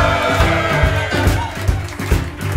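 Live concert audience cheering and roaring continuously, with loud, dense crowd noise under a rhythmic musical pulse, sustained throughout.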